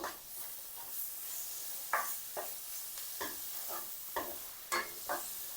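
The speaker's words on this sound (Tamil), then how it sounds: "இந்த தக்காளியும் சேர்ந்து கொஞ்சம் வதங்கி வரட்டும் அந்தளவுக்கு திருப்பி ஒரு கொஞ்சம் நேரம் வதக்கி விட்டுக்கொள்ளுவோம்" Capsicum curry with tomato and dried Maldive fish being sautéed in a pan, with a soft continuous sizzle broken by several sharp stirring scrapes and clinks of the spoon, close and moderately quiet.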